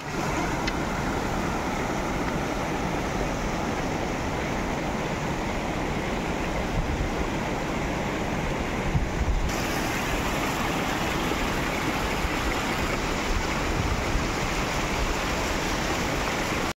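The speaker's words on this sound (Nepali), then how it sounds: "सलल्ल पानी बगिरहेछ यहाँभित्रबाट" A mountain stream flows beside a snowy Himalayan trail toward Machhapuchhre Base Camp, its loud, dense, continuous rushing steady and close for the whole stretch, with no talk.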